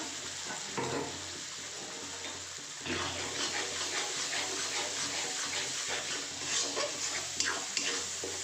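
Hot water hits a frying flat bean curry in the pan, setting off a rush of hissing and bubbling sizzle that persists with soft stirring scrapes, fairly quiet and without talk.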